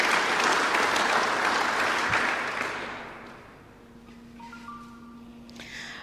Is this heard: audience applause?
yes